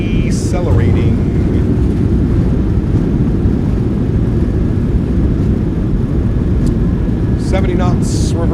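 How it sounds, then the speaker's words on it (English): Thrust reversers on a PMDG 737-700 landing in a flight simulator, a loud, steady low roar of engine thrust throughout, with a few short chimes and cockpit tones near the start and end. "Nose down gently, reversers are out, decelerating."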